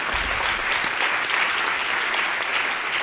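An audience at a climate-adaptation conference-debate in Rennes applauds: steady, close, evenly dense clapping that fills the whole stretch without pause.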